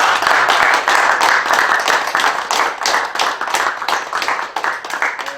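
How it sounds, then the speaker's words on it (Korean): A crowd applauds loudly and steadily, dense clapping filling the whole stretch before tapering slightly toward the end. "여러분 앞에 계신 분들께 박수 한번 드립니다"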